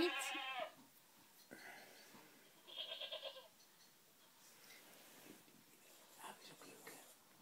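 Two short goat bleats from an iPad game ring out, one at the start and another a few seconds later, with quieter rustling and faint sounds in between.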